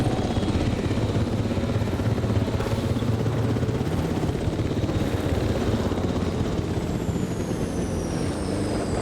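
A helicopter in the video game Jurassic World Evolution 3 drones steadily with a broad rotor and engine rumble, continuous and fairly loud, with no voices over it.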